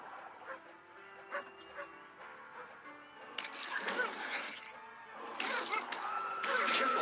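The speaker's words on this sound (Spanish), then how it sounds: "No, peleas contra el perrito." Enemy dogs in The Walking Zombie bark and yip in short bursts amid game sounds, faint at first and then louder, with a player talking over the action.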